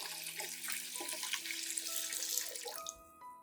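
Clean water, about two liters, poured from a tap into a plant nutrient solution to dilute it for a peace lily: a steady, close rush of running water for about three seconds that cuts off near the end.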